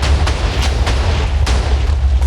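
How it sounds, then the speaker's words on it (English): Skyship port and starboard cannons firing in Minecraft, a rapid series of booming blasts over a heavy, continuous rumble, loud and close. "these two here fire our port and starboard guns"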